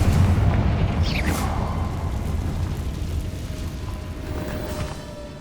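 A Confringo spell explosion in the video game Hogwarts Legacy lands as a heavy boom with a rumbling tail and a brief whooshing flourish, settling into a fading low roar.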